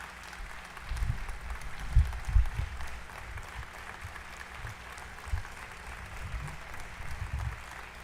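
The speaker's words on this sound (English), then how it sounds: "they're clapping and I don't like it" Audience clapping at a state address, a steady distant patter of applause with a few louder thumps, heard faintly through a livestream.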